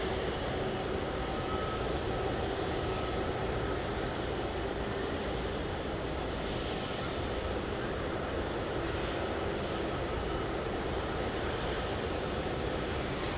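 Retro-liveried Qantas Boeing 737s crossing at Sydney Airport, a steady wash of jet-engine roar with a faint high whine, continuous and unaccompanied by speech.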